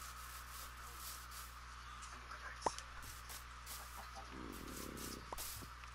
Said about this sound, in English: Or do you want to kill the chicken?